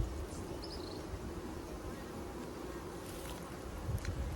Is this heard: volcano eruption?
no